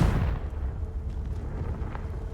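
A Confringo explosive spell in Hogwarts Legacy bursts with a loud booming blast at once, then a rumbling decay fills the rest of the moment.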